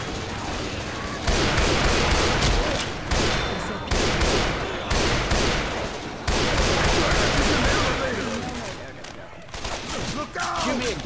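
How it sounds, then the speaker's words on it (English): Video game gunfire in a pub stomping match, dense bursts of shots and booming fire repeating loudly across the whole stretch, with occasional voices mixed in. "it's not alright that you are shooting me."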